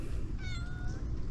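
A cat gives a single clear meow, rising then falling, close by over a soft background hum.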